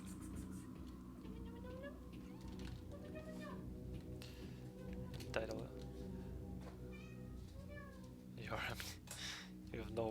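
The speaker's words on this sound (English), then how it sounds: "Cat!" Repeated cat meows, some drawn out and wailing, from the video game You Are Empty, over a steady game soundtrack with a person talking intermittently.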